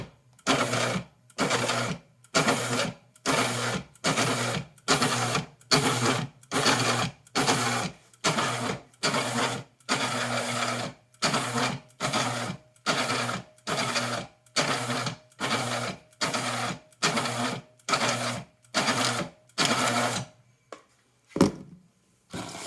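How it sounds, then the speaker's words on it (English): A Cuefeed on-demand paper feeder with U Board and L Board attachments feeds cards one at a time, giving a rapid run of about two dozen evenly spaced mechanical whirring bursts with short gaps, then a couple of faint final clicks. "So I'll be just pushing the button here to make it feed."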